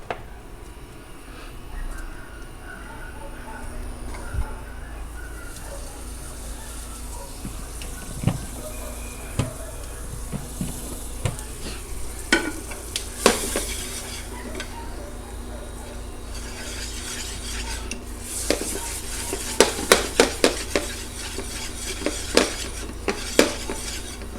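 Butter and flour roux frying and being stirred in a pan while making a from-scratch katsu curry, with a soft steady sizzle under repeated scraping and clinking of a utensil against the pan, louder toward the end.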